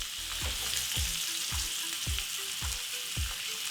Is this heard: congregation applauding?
no